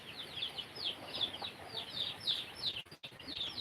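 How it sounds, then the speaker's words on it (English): Native chickens cluck nearby in a rhythmic series of short repeated calls over quiet outdoor background, with a brief rustle near the end. "native chickens here."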